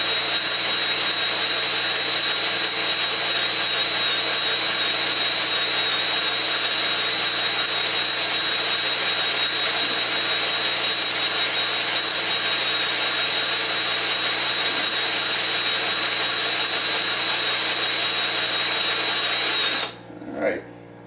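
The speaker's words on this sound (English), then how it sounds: "It's using a bottle brush to lightly hone them so that you have a plateau finish for the rings to" Bottle brush hone spinning inside a Honda CB550 motorcycle cylinder during deglazing, a loud continuous high-pitched drill whine with steady grinding that runs for about twenty seconds before stopping abruptly.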